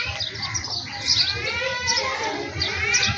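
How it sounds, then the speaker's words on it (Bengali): Sparrows chirp at sunrise in a run of quick, overlapping high tweets close by, over a low steady background rumble. "চড়ুই পাখির অনেক সাহস,"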